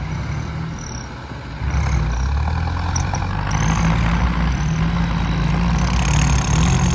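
A 36-horsepower small tractor engine runs close by, loud and continuous, its low rumble rising and holding steady after a brief dip at the start, with no voices.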